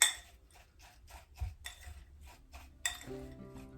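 Vanilla wafer crumbs and melted butter stirred together in a bowl for a gluten-free pie crust, a steady run of rhythmic scraping clinks of a utensil against the bowl, close and fairly quiet.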